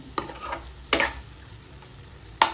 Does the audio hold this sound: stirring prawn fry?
yes